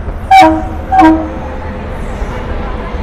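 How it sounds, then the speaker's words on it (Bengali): A passenger train pulling into platform 1 at Berhampore Court railway station sounds two loud, close horn blasts in quick succession, followed by a steady low rumble of the moving train. "আর একটা ট্রেন ঢুকলো 1 নম্বর প্ল্যাটফর্মে"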